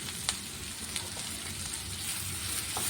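Spice mixture with salt and turmeric frying in a pan, a continuous soft sizzle with a few faint clicks of utensils throughout.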